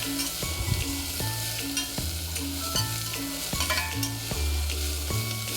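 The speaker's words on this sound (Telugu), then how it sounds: "కరివేపాకు, కొత్తిమీర ఇంకా పుదీనా వేసి ఫ్రై చేయాలి" Curry leaves, coriander and mint fry in hot oil for a Telangana-style curry, a continuous close sizzle with repeated utensil scrapes and knocks against the pan at a loose rhythm, and no voices.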